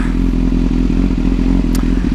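A 2010 BMW S1000RR superbike being ridden, its engine holding a loud, steady drone with faint wind and road noise and a brief scrape partway through, no voices.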